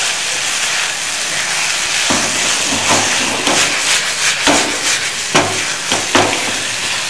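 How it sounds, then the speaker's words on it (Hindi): Corn salsa with small cheese cubes sautéing in a pan over a medium flame: a steady, close sizzle with repeated scraping strokes of a spoon and a few sharper knocks, with no talking. "फिर से मीडियम फ्लेम पर सबको सौते करेंगे"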